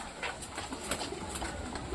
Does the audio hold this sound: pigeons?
yes